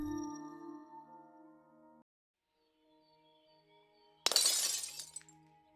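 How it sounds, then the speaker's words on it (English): In the video game State of Mind, a glass shatters sharply and nearby after a few seconds of quiet game tones, its bright crash tailing off over about a second. "I broke a glass"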